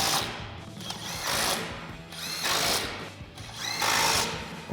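A power tool with a 17 mm socket runs in three rising bursts of about a second each, whirring and rattling up close, as it tightens the bolts on the bumper spacer brackets of a 2020-2026 Chevrolet Silverado 2500.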